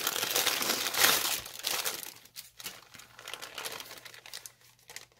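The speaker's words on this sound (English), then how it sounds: "Oh dear, more crinkles" Close, loud crinkling and rustling of plastic packaging as a Smartdoll-size doll wig is unwrapped, dense at first and then thinning into sporadic crackles.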